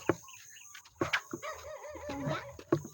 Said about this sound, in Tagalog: Ang tahol niya ng aso.